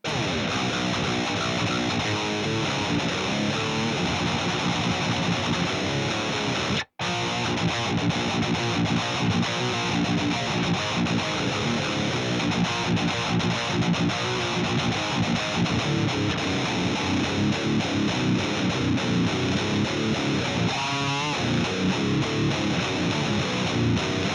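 Heavily distorted electric guitar through the Audio Assault Tight German Savage Modern high-gain amp preset plays a dense, saturated riff almost nonstop, with one brief cutout partway through and a squealing slide near the end.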